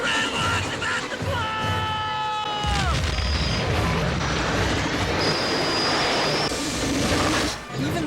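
A steam locomotive pushes a DeLorean along railroad tracks in Back to the Future III, a roaring, hissing rumble with a falling whistle-like tone early on, then sustained loud chugging and churning noise.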